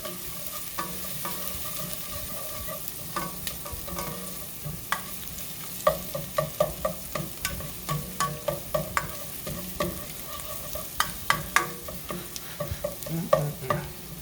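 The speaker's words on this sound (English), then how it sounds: "we're just going to saute that around for about 30 seconds" Spices sautéing with onions in a pot on medium-low heat, a steady sizzle under rapid, rhythmic scraping and clacking of a spoon stirring against the pot, close and clear, no talking.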